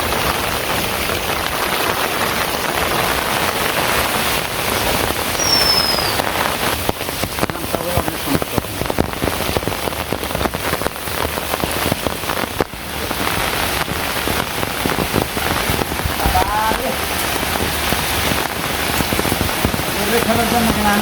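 Heavy rain pours steadily through a village storm, a dense unbroken wash of drops drumming on surfaces at close range, with faint voices now and then under the downpour.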